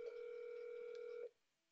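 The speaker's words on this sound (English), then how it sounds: "the call is going to ring in the widget" An incoming call rings in the Fastcall soft phone widget in Salesforce as a steady electronic tone with a few harmonics, held for just over a second before cutting off. The tone is fairly quiet and heard alone.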